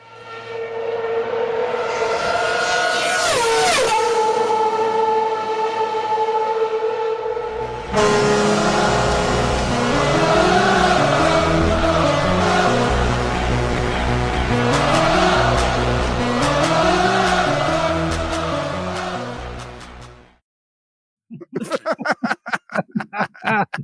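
Cars roar and rev loudly in a radio advert for a car-crushing event at the Spectrum, with engines rising and falling, squealing tires and an announcer talking over the noise before a short break and a final burst.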